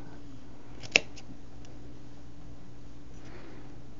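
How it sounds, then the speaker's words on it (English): A single crisp snip of scissors cutting close to a seam through layered fabric scraps, a short sharp click over an otherwise quiet background. "Try to cut it as close as possible"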